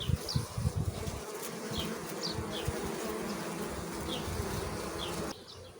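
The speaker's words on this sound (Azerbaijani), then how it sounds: "Görün necə işgüzar arılar, necə ana arıları yemliyirlər" Honey bees buzz at a hive, a dense, steady drone close by with a few lower thumps early on before it cuts down near the end.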